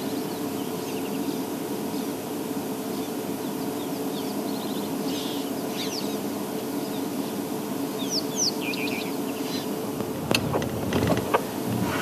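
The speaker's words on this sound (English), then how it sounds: "I think there might be a couple of young birds here as well." Young insect-eating birds give thin high chirps and short calls scattered over a constant hiss of insects and background noise, with a few brief louder clicks near the end.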